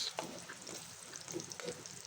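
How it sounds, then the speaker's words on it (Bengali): Onions frying in oil, a faint, brief sizzle with soft crackles and stirring, no talking. "পেঁয়াজটা আমি ভেজে নিচ্ছি"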